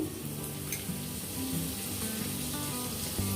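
Butter sizzling steadily as it melts in a hot frying pan, a continuous close crackle with a few faint clinks of a utensil.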